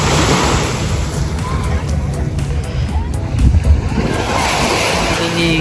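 Sea waves at Jumeirah Beach, a steady close wash of surf mixed with heavy wind buffeting on the microphone and one louder surge of water midway.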